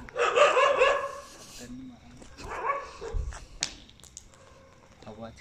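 Village dogs barking at night in a few sharp bursts, close and fairly loud, with yips between them and people talking nearby.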